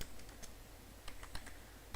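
Quick, close keystrokes on a computer keyboard as C code is typed, a short burst of irregular clicks over a quiet room hum.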